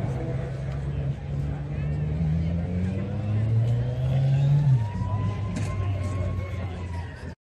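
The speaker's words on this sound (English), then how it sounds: "Rev it again." A sports car engine revs at a Cars and Coffee meet in Austin, Texas, its pitch climbing and falling through several throttle blips under outdoor crowd chatter and nearby talking.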